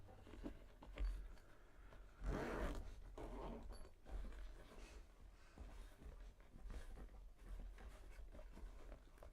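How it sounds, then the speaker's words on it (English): A clothing zipper is tugged in short, scratchy bursts as it sticks and resists, loud and close against a noisy room background, with no talking over it. "I screwed the zipper up."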